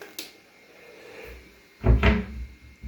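A small bathroom cabinet door opens or closes, giving a soft click followed by a louder, close wooden thump and a faint knock, with no talking.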